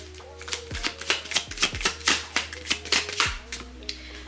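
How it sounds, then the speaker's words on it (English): Someone shuffles a deck of tarot cards, a rapid series of crisp riffling bursts and soft slaps, close and fairly quiet. "that was a bad shuffle"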